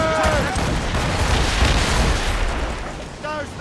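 Ship cannons fire in Assassin's Creed Rogue, a dense, loud, sustained barrage of booms mixed with shouted commands and short voice lines at the start and end.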